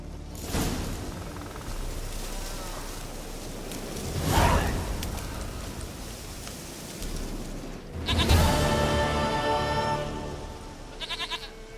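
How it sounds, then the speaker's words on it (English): Goat bleating in The Witcher 3: Wild Hunt, a few bursts over a steady game ambience with swooshing movement, with a louder bleat near the middle and another toward the end. "Goat of mine!"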